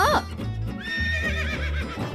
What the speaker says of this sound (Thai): นั่นม้า